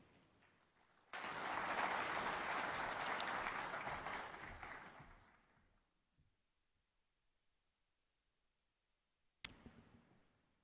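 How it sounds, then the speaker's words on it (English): Audience applause at an identity conference in Nairobi after a speech ends, a burst of clapping lasting about four seconds that fades into silence, followed later by a few faint clicks. "Another round of applause for Executive Chairman."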